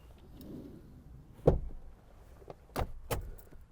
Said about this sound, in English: Click that button, it's going to slide that forward